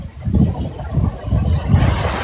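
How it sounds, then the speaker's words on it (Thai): Very strong hurricane wind gusting around a house, loud low buffeting roar that surges and dips in uneven waves, close to the microphone, with no voices heard. "ลมแรงมาก"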